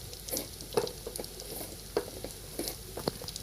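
Egg bonda frying in hot oil, a steady soft sizzle broken by scattered pops and crackles, with occasional stirring sounds close by.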